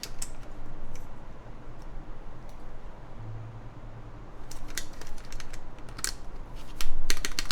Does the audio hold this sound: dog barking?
no